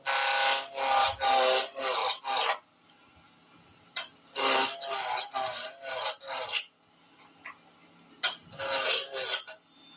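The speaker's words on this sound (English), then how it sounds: "Turn the lathe on. I'm going to go straight to a roughing gouge in this case." Roughing gouge cutting wood on a lathe while turning a German nutcracker blank: close, harsh scraping passes in rhythmic groups of four or five strokes, each group separated by brief quiet gaps.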